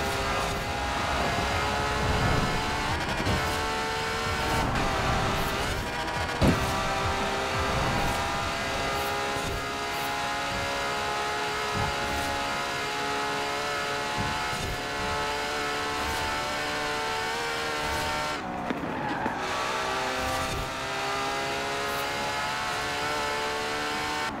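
A Ferrari and a McLaren race on a custom track in the video game Forza Horizon 4, engines droning loud and constant with revving surges and a brief dip near the end, no voices.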